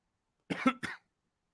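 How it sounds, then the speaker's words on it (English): Two quick coughs, close and fairly loud, one right after the other, then silence. "We're already coughing all over the place."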